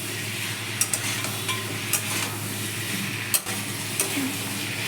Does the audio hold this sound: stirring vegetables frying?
yes